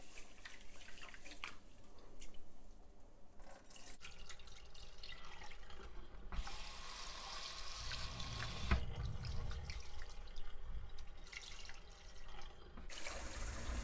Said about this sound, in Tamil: கொஞ்சமாக கழுவிட்டு அதை நீங்கள் ஊற வைங்க.